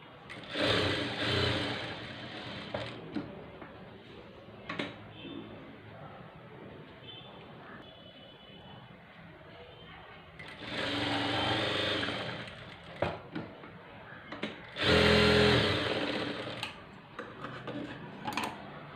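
Sewing machine stitching slippery blouse fabric, in several short bursts of close, whirring running separated by quieter pauses with light ticking handling.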